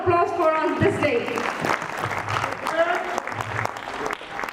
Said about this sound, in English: Please give a big round of applause for us this day.